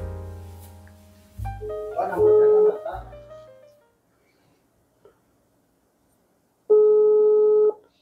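A telephone call rings out while waiting for someone to answer, heard as one long steady electronic tone near the end after a short burst of music and a quiet pause.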